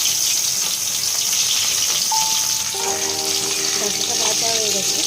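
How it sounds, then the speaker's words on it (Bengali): Drumsticks (sajne data) fry in hot oil with a loud, continuous close sizzle that holds steady throughout, a faint tonal scrape or utensil sound rising briefly near the end. "এরপর সজনে ডাঁটাগুলো ভেজে দেবো"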